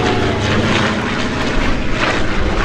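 Propeller warbird engine roars loud and steady at an airshow, a continuous droning rumble that swells slightly as the plane passes, with no talk over it.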